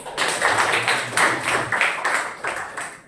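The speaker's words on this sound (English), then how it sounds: "Clap hands." A group of people claps hands in a crowded, irregular burst of applause that goes on throughout, fairly loud and close.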